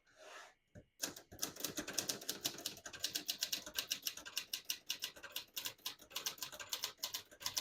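Rapid key strikes on a 1967 Hermes 3000 portable typewriter, a steady clatter of sharp clacks with short pauses, close and loud with no voices.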